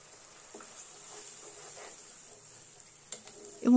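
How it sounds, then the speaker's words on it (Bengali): Garlic paste sizzles in a pan for Bengali chicken curry, a faint, steady frying hiss with a few soft stirring knocks, ending in a sudden louder burst. "তারপর আমি দিয়ে দিচ্ছি এখানে রসুন পেস্ট।"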